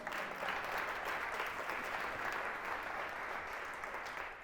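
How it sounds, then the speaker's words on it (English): A conference audience applauds, steady continuous clapping from a crowd heard from a distance and fairly faint, running the full length without any talking. "we can give her applause anyway"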